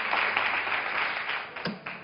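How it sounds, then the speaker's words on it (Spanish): An audience claps together in a broadcast studio, a dense steady round of applause at moderate distance that thins slightly toward the end, with no voices over it. "¡Un aplauso, por favor, para María!"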